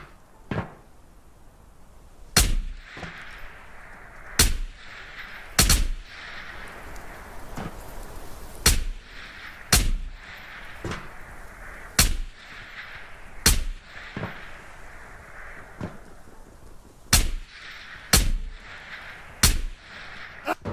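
Gunfire in the VR shooter Ghosts of Tabor: about a dozen sharp, loud shots at irregular intervals, roughly one every second or two, each cracking out over a quiet background with no talking.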